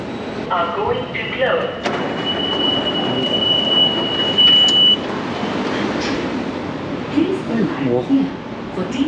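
Metro train rumbling steadily at New Delhi station, a constant broadband roar with a brief high whine and faint clunks, close and loud throughout.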